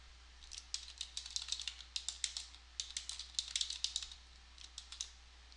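Rapid, light clicking of fingers typing a search query on a computer keyboard, keystrokes tapping in quick irregular runs, close and alone over a faint low hum.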